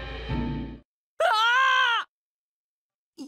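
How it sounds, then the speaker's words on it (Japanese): A single drawn-out human scream from the video game Digimon Survive, a loud wavering cry lasting under a second, heard after a brief stretch of game sound and then followed by silence. "人間の悲鳴だと思う。"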